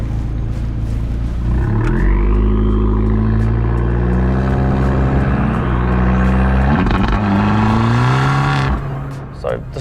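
Fiat Abarth 695 Tributo Ferrari with twin exhausts pulls hard from a dealership, engine note climbing through rising revs with a brief shift dip, loud and close throughout.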